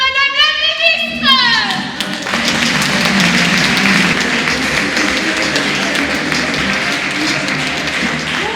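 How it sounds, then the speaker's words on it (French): Audience applause for a minister at a live 2020 stage show, beginning after a short musical flourish and then continuing as dense, steady clapping at an even level until the end. "Et je vous demande d'applaudir Madame la Ministre."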